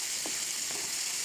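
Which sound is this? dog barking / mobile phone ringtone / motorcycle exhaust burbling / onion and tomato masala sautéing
onion and tomato masala sautéing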